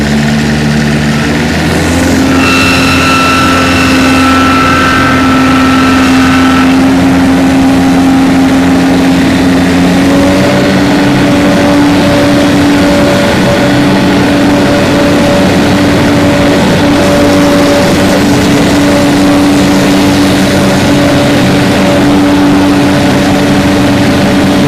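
A 2007 Finn B70 engine idles steadily and loudly nearby, a deep droning hum with a shift in tone as its twin disc clutch is engaged, no voices.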